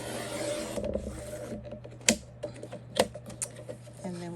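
A paper trimmer cuts through paper at a craft table with soft sliding scrapes and two sharp clicks of the blade, close and fairly quiet, amid faint room noise.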